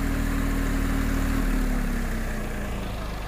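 A Swaraj 855 4x4 tractor engine running steadily in a field with a tiller attached, a continuous loud low drone that sags slightly in pitch toward the end, with no talk over it.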